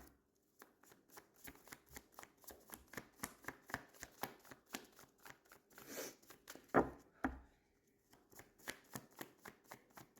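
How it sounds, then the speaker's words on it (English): A deck of tarot cards is riffled and shuffled close up, giving rapid rhythmic flutters and slaps in bursts, with a louder snapping riffle near the middle and a brief pause before shuffling resumes. "I would like one more shuffle to see if anything else comes out."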